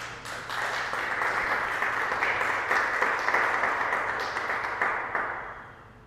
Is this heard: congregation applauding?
yes